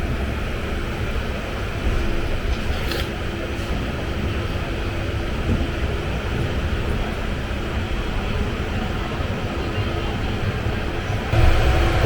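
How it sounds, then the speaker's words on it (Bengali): The 12871 Ispat Express departs, heard from on board as a steady, loud low rumble of the moving train that holds evenly throughout. "দু মিনিট লেটে ট্রেনটা ছেড়ে দিল"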